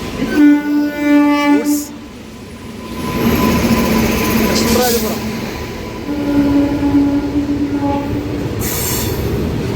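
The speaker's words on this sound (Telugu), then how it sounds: "ఇప్పుడు రెండు నెంబర్లో ఒక ట్రైన్ వచ్చింది చూసారా ఏపీ సంప్రక్రాంతి సూపర్ ఫాస్ట్ ఎక్స్ప్రెస్" The AP Sampark Kranti superfast express train pulls into a station with a loud, close, continuous rumble and wheel noise. Sustained horn-like tones sound near the start and again midway.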